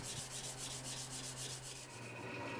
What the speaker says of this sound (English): I'll go ahead and get the false edge and the blade completely hand sanded